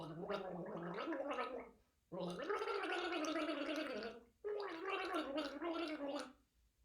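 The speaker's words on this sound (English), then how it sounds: "So I'm going to try and gargle Happy Birthday." A person gargles water to the tune of Happy Birthday, producing three bubbling, pitched phrases with short pauses between them, close and clear.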